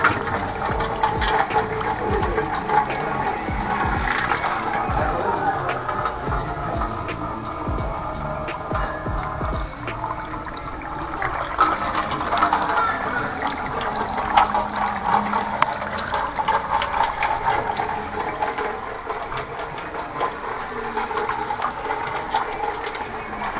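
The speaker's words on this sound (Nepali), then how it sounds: "Guys, this tap is very wonderful and unique." Water pours continuously from a tap in a village area, a steady splashing gush with slight changes in flow partway through, heard close and fairly loud.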